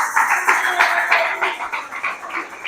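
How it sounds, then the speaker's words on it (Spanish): Congregation applause during a Spanish-language church sermon: a dense, steady wash of many hands clapping at once, loud and close, lasting the whole moment without a break. "Dele fuerte el aplauso."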